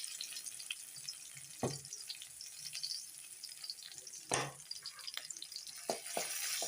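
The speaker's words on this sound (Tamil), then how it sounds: "பச்சை மிளகாயும் பூண்டையும் ஒரு ஃப்ளேவருக்காக நல்லா பொறிச்சு எடுத்துக்கலாம்" Green chillies and garlic fry in hot oil, giving a steady soft sizzle with a few sharp spattering pops and scrapes of stirring; fairly quiet and close, with no voices.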